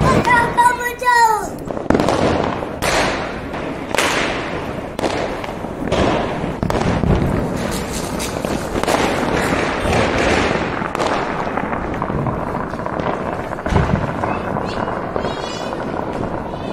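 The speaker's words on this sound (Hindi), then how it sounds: "पटाखा बजाओ" Diwali firecrackers go off in a rapid string of sharp bangs and crackles, close and loud, with people shouting and talking between the blasts.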